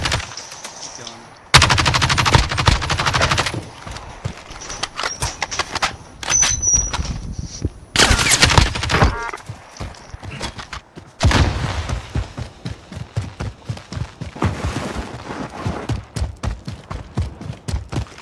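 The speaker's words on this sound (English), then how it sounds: "You getting shot at?" Heavy video game gunfire, loud rapid bursts of automatic shots and single cracks, comes in dense clusters with short gaps between volleys across the whole stretch.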